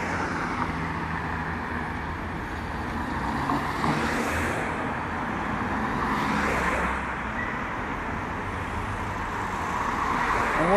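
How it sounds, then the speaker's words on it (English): Cars driving past on a busy high street after the traffic peak, heard as a continuous roadway rumble with two or three swelling whooshes as vehicles pass close by. "A few more cars coming through."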